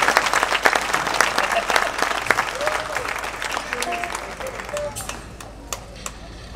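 Applause from a concert audience at a CD presentation evening, a dense burst of clapping that thins and fades over several seconds, with voices under it.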